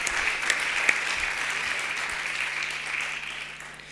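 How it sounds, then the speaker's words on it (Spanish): A church congregation applauds in praise, with steady, moderately loud clapping that holds for a few seconds and then gradually fades, joined by a faint low hum. "want you to praise the Lord and give Him an applause"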